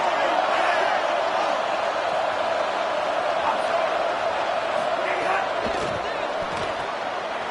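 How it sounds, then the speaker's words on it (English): Steady, dense stadium crowd roar in a college football video game fills the whole stretch, a constant wash of cheering on a fourth down play with faint thumps underneath. "This crowd bringing serious noise on this huge fourth down play."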